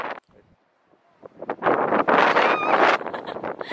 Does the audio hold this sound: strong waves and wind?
yes